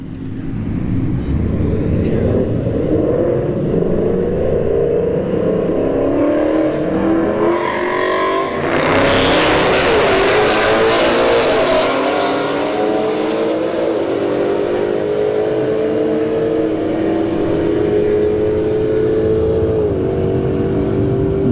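Drag racing cars, a Mustang against a Scat Pack Charger, roar loud and close at a strip, engines revving hard through a long pass as the sound sweeps up into a bright peak midway, then settles into a sustained high roar.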